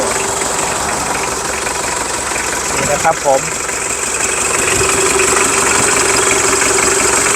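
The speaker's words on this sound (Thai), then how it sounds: "เสียงเครื่องยนต์2008 นะครับผม CM40 นะครับผม" A 2008 Isuzu Dragon Eye 4x4 diesel pickup engine idles with a steady, rough clatter throughout, while someone speaks briefly over it.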